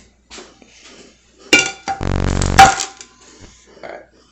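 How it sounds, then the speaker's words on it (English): Ceramic dishes clink and clatter as a plate is grabbed from a stack, a few sharp knocks followed by a longer rattling scrape, close and loud in a quiet kitchen. "I gotta grab a plate"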